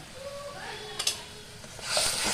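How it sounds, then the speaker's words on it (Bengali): A masala paste of turmeric, red chilli powder and a little sugar fries in a pan while being stirred, giving a soft close sizzle with scraping touches that swell into a louder hiss near the end. "মশলাটা এবার ভালো করে কষিয়ে নেব।"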